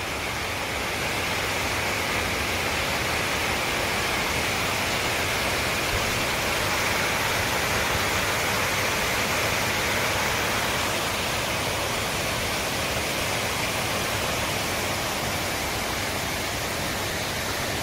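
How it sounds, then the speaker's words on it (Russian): A steady, loud rush of falling water at Zeynep Hotel Resort, where water pours off the canopy of the main entrance like an unbroken fountain, with an even roar and no pauses. "не спадающий фонтан, водопад"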